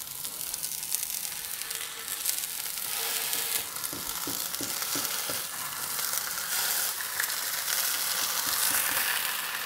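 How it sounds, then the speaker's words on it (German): Steady, dense sizzling of beef rouladen searing in hot oil in a Dutch oven, loud and close, with a few light scrapes and clicks partway through. "Und dann werden die Rouladen scharf angebraten."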